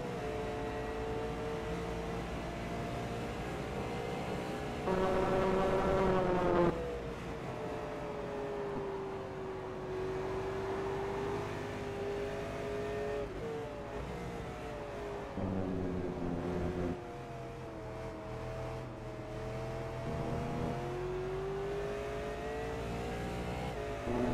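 V8 Supercar engine at Phillip Island in a racing video game, heard on board through a full lap: a loud, steady engine drone rising and falling in pitch through gear changes, with brief louder bursts of revving, alone without talk.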